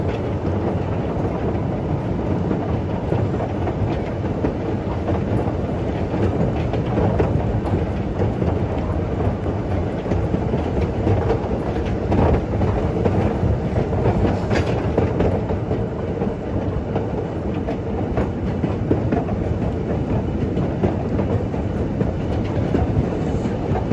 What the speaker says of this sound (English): You can see the gravity train stretching out in front of you there.